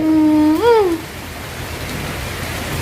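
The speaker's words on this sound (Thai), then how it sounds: "อ้าวฝนตกเลย อ่าฝนตกนิดหน่อย" Light rain falling as a soft, steady broadband hiss throughout, opened by a brief rising and falling tonal call in the first second.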